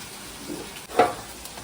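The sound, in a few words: egg frying in a pan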